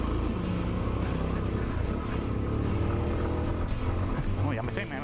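A Montana trail 125cc motorcycle rides a motocross track, its engine droning steadily close up under wind rumble, easing off slightly as it brakes, while a rider talks over it.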